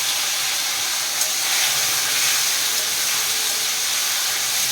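Small pieces of medium tomato drop into hot tempering oil and sizzle, a steady broad hiss close by that swells slightly after it starts and then holds evenly, with no one speaking.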